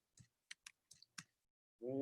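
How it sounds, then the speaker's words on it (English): Several separate computer keyboard keystrokes click at uneven intervals in a quiet room, followed by a voice starting to speak at the end. "typing and me are not the best of friends"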